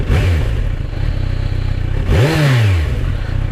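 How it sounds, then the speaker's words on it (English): A Kawasaki Z900 SE inline-four motorcycle engine starts and settles into a steady idle, then blips through a rising and falling rev about two seconds in, loud and close with a smooth, even tone. "That inline 4 sound that we've come to love"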